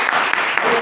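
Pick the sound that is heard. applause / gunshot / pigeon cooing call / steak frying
applause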